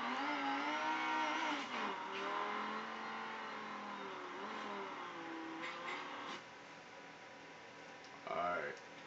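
Cars drift and rev in the racing video game Midnight Club Los Angeles, with engine tones rising and falling and brief tire squeals, heard under continuous talking.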